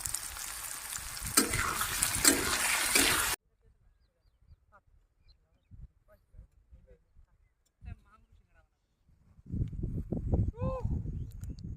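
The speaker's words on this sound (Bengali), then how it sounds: "আলু প্রায় ভাজা হয়ে গেছে এখন উঠে নেবো" Potatoes frying in mustard oil give a bright sizzle for the first few seconds, then the sound cuts away to quiet scattered clinks before frying noise and a voice return near the end.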